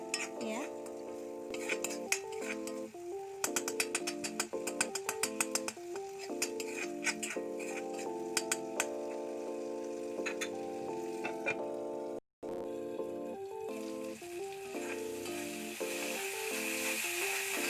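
Spices fry in a pan while a utensil stirs and scrapes them, giving rapid clinks and taps over a steady sizzle, with one brief drop to silence partway through, while a chickpea snack is prepared.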